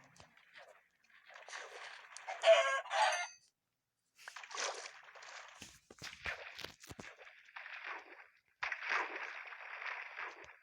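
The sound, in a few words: chickens clucking in a video game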